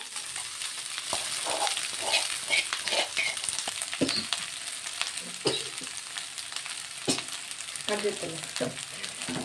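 Cooked hot rice is tipped into a frying pan with ginger and garlic, sizzling steadily up close and stirred with irregular scraping clicks, no talking over it.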